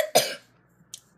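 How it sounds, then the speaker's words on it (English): A single sharp cough from a nearby person, abrupt and loud, followed by a quieter short throat sound and near silence. "I still have the cough but not the cold."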